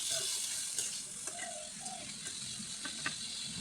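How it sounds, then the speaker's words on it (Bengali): Shrimp fry in oil with chopped onion and green chilli, giving a soft, continuous sizzle at low level, broken by a few light clicks and taps from a utensil. "চিংড়ি মাছগুলো আমি ভালো করে তেলের মধ্যে ভেজে নেব পেঁয়াজের সাথে।"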